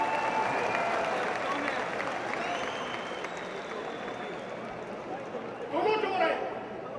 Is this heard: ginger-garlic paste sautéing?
no